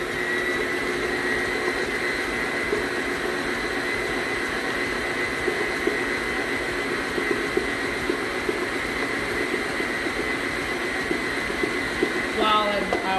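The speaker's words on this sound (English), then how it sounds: "While our mixer is going, well, it's already automatically cutting off, it's done." An electric mixer beats zucchini bread batter with sugar, a steady loud whirring drone that runs unbroken and then clatters briefly as it cuts off near the end.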